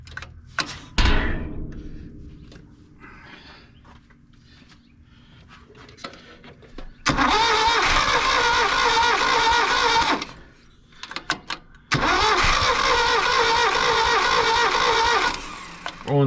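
A 1967 Toyota Stout engine, idle for thirty years, comes to life in two loud, rough bursts of roughly three seconds each, following a thud and some quiet handling noises.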